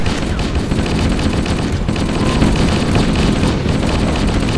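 A gun in a video game fires repeatedly, loud dense bursts of automatic gunfire that crackle on without pause, with other shots and explosions mixed into the din.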